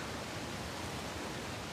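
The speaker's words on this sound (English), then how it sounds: "Another waterfall." A waterfall in the video game Uncharted: The Lost Legacy gives a steady, dense rush of falling water, constant and enveloping with no pauses.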